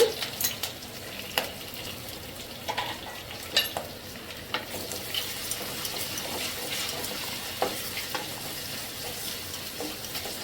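Small onions, garlic and fresh curry leaves sauté in hot oil for a fish kulambu, with a steady close sizzle and repeated spoon scrapes and stirs against the pan.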